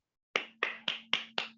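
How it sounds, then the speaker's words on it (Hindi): A round of clapping in an online Zoom training session, five sharp claps in even rhythm, close and clear against near-silence. "एक जोरदार ताली।"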